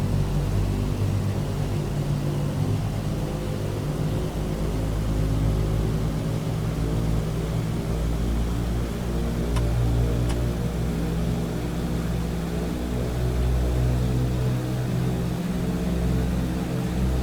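Airliner engines spooling at full takeoff power in Microsoft Flight Simulator 2020, a steady loud low roar and drone with no break and no talk.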